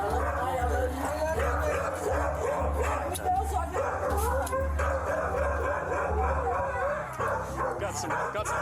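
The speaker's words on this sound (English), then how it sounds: "Got some guard dogs in there." Guard dogs bark, yip and whimper at a house during a police arrest, with repeated barks and whines throughout, close and loud. People talk over the barking.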